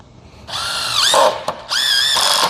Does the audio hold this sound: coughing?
no